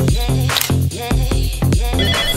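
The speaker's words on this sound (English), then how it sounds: "So the doorbell's ringing." An electronic doorbell chimes loudly and close by, repeating a short bright tonal melody several times in quick succession.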